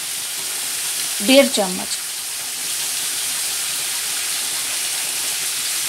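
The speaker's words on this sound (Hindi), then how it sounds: "इसको थोड़ा देरी भून लेंगी, अच्छा से थोड़ा सा फ्राई करूंगी" Chili powder and turmeric powder fry in a pan with a steady, even sizzle. The sizzle runs unbroken throughout, and a voice speaks briefly over it early on.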